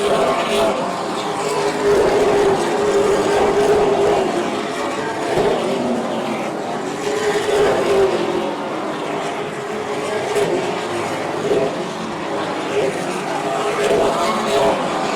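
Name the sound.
Super Late Model race cars racing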